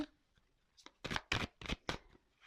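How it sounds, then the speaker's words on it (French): Tarot cards shuffled to draw an advice card, giving several quick riffling bursts close to the mic after a quiet start, with no talking. "je vais prendre une petite carte conseil"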